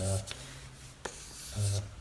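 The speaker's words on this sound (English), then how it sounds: "you don't hear a sort of scratching noise, it's more of a hiss." A soft, steady hiss of steel rubbing on a fine sharpening stone, in short strokes with brief pauses and a faint voice in places.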